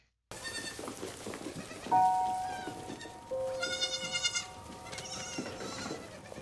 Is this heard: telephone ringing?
no